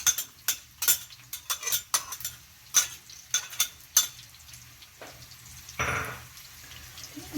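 Chopped onion frying in hot oil in a home kitchen, cooked toward dark brown: a steady low sizzle broken by frequent sharp clinks and scrapes of a utensil stirring in the pan, with a brief louder hiss near the end.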